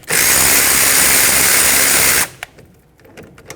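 A power tool spins off the 14mm caliper bolts on the rear brakes of a 2006–2010 Hyundai Sonata, a loud continuous whir lasting about two seconds that cuts off abruptly, followed by a few faint clinks.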